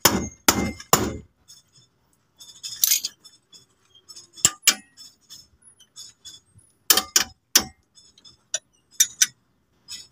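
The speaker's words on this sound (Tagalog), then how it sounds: "pukpok lang kailangan dyan" Sharp metallic hammer strikes ring out in irregular clusters, some in quick doubles and triples, with quiet gaps and faint clinks between them.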